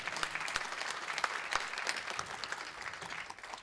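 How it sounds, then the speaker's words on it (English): A round of applause from an audience at a Society Empowerment 2024 presentation, many hands clapping in a lively, even stream with distinct individual claps popping out, sustained at a moderate level for several seconds. "Let's give Michelle a round of applause"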